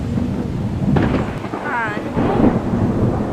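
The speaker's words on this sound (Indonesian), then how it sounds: "Terdengar suara petir" A loud rumble of thunder rolls through steady rain, with a faint voice briefly heard mid-clip.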